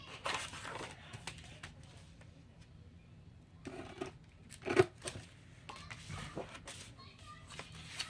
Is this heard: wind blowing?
no